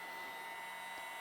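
A DeWalt DCE530 20V cordless heat gun runs with its fan on the low setting, giving a steady, even airy whir with a faint tonal hum and no break across the moment.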